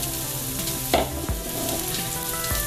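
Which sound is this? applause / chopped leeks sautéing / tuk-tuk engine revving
chopped leeks sautéing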